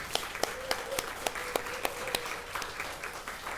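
Applause at a church retreat gathering, honoring the volunteers who prepared the meals: a steady wash of hand clapping with scattered sharper individual claps standing out, moderately loud and fairly close, with a faint voice or tone underneath.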